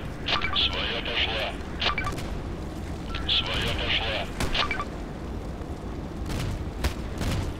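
Gunfire in the online shooter Contract Wars: repeated single shots crack sharply at irregular intervals over a dense, rumbling game backdrop of distant explosions and battle noise.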